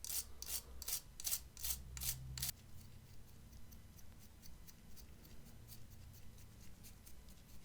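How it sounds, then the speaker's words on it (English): Stiff brush scrubbing smoke residue off a Game Boy shell wet with isopropyl alcohol, about eight quick, rasping back-and-forth strokes up close, then fading to faint rubbing. "Keep going back and forth here between the IPA and then brushing it"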